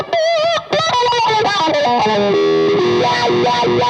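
An electric guitar played through a new Friedman Amplification effects pedal, shown at a trade show, rings out loud and distorted in quick chords and bending lead notes, continuous and close.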